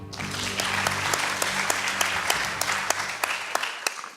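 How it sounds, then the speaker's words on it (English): A school debate audience gives steady applause, a dense, continuous clapping crowd at moderate volume with a few louder individual claps standing out, fading slightly at the end. "They deserve your applause."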